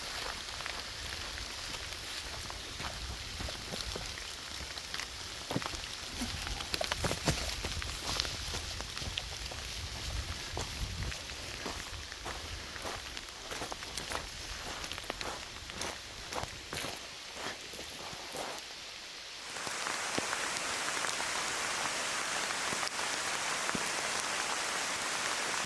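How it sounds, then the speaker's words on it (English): Rain begins falling near a Midwest river, a soft, steady patter on the ground and leaves mixed with footsteps hurrying along, turning into a more uniform hiss toward the end. "it's starting to actually rain now."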